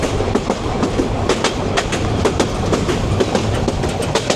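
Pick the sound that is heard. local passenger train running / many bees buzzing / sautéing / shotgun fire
local passenger train running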